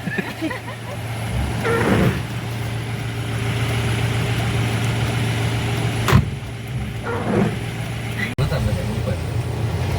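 Steady low engine rumble and road hum from inside a moving car on a family trip, continuous and fairly loud, with voices talking over it and a couple of brief thumps.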